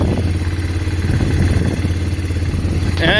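The old engine on a Mennonite wagon idling after repair, a loud close steady low rumble with a rhythmic throb and light clatter, ending in a brief rising squeal.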